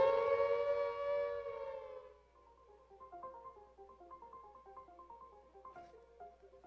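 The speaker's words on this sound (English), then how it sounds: "woken in the early hours of the morning to the frightening sound of an air raid siren" An air raid siren wails loudly and slowly winds down, fading out as quieter chiming tones play in the background.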